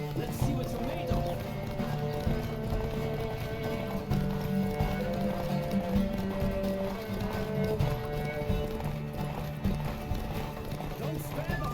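Horse galloping in The Witcher 3 Next-Gen, the rapid clip-clop of hooves rolling steadily under game music and voices from start to finish.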